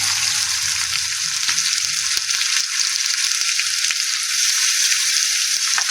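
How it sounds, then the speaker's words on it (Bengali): Potatoes frying in hot oil with bay leaves, a loud, even, crackling sizzle heard up close and continuing without talk. "তো দেখো, তেলটা আমার গরম হয়ে তেজপাতা সবকিছু ভালো করে ফুটে গেছে, তাই এখানে আমি দিয়ে দেবো আলু।"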